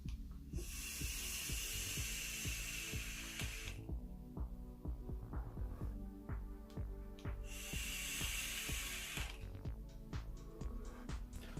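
A Super Bat vape mod drawn at 60 watts with the airflow wide open gives two long airy hissing draws, each several seconds, up close, over a pulsing low background.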